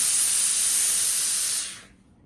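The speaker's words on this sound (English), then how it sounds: "I am going to use steam on this" A steady, loud hiss of steam blasts from an iron for under two seconds, then cuts off abruptly into near silence.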